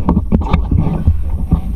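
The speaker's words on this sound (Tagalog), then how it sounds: "medyo malakas po yung hangin" Strong wind buffets the microphone with a steady low roar and rumbling gusts, close and loud throughout, with no voices.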